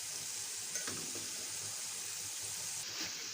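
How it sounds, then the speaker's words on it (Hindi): Boiled rice drops into a hot frying pan for egg fried rice, giving a continuous soft sizzle and hiss with a few light stirring scrapes. "अब हम इसमें ऐड करेंगे चावल जो हमने बॉईल करके रख लिए थे।"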